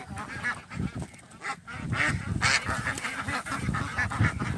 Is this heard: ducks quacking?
yes